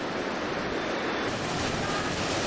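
Pacific Ocean surf breaking on a beach, a steady loud wash of waves with wind buffeting the microphone throughout.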